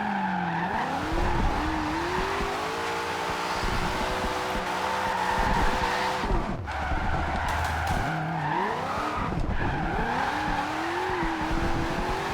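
A 2015 Ford Mustang with a rally-suspension drift build in Forza Horizon 2 slides through a section, tires squealing in long wavering screeches over a steady engine roar, loud and continuous with no talking.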